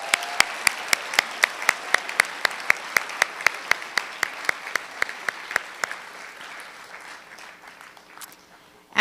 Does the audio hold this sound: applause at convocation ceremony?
yes